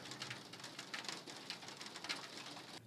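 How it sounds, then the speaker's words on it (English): Steady rain falls outdoors as a dense, even hiss, with soft pattering and a few faint bird coos mixed in. No one talks over it. "It's raining in real life now."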